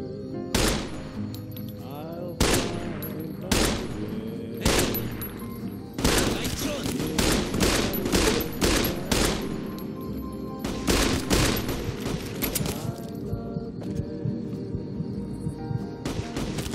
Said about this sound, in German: Wieso kann er so präzise schießen?